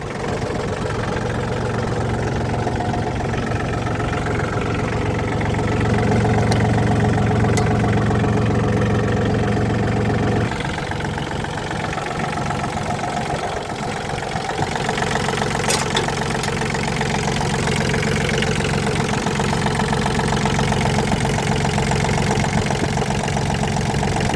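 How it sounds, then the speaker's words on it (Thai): A Yanmar EF312 tractor engine idles steadily with a low knocking diesel rumble, close and continuous, the tone shifting slightly partway through. "เครื่องดีมากเลยครับ ไม่มีระบายเลย"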